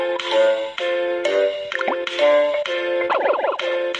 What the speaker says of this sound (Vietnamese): Đó là một tín hiệu sóng âm thanh của thợ mỏ ở gần đây